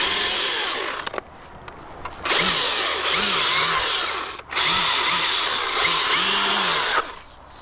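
A chainsaw runs at full throttle in loud bursts while an arborist cuts in a tree, revving up, dropping back to idle, then surging again, with the chain close to rolling off the bar near the end.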